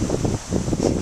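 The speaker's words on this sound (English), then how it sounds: "Wind is pretty windy out here." Wind gusts buffet the microphone outdoors beside a canal where manatees feed, a steady low rumbling roar with rhythmic surges and no voices.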